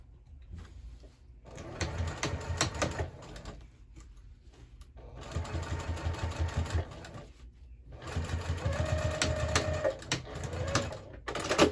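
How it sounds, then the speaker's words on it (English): A sewing machine stitches a crossbody bag seam at a 3/8 inch allowance in three steady runs of fast, even needle clatter. Brief quiet pauses separate the runs, and the last run carries a rising motor whine. "And then we're going to sew this at 3/8 inch seam allowance."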